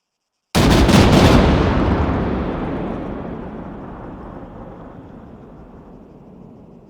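A rifle volley fired by an honour guard at a memorial service, one sharp loud crack of several shots together followed by a long rolling echo that fades out over several seconds, outdoors.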